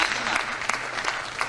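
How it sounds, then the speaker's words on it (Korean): An audience at a talk claps together, a dense burst of applause with many overlapping hand claps, close and fairly loud throughout. "박수 한번 쳐주십시오"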